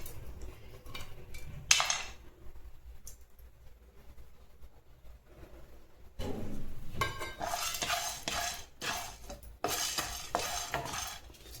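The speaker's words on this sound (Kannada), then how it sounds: "ಚಕ್ಕೆ 2 ಪೀಸು, ಕಾಳು ಮೆಣಸು ಒಂದು ಮುಕ್ಕಾಲು ಸ್ಪೂನು, 1 ಸ್ಪೂನ್ ಧನಿಯಾ, ಇವೆಲ್ಲ ಹಾಕಿ ಡ್ರೈ ರೋಸ್ಟ್ ಮಾಡೋಣ" Cloves, cinnamon pieces, black peppercorns and coriander seeds dry roasting in a pan, with scraping and stirring strokes that come in scattered bursts, growing busier and louder toward the end, over a low background hum.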